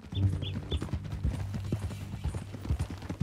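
Horse hooves clip-clop at a steady walking rhythm in Red Dead Redemption 2, close and fairly loud across the whole stretch, with a few faint high chirps early on and no talk.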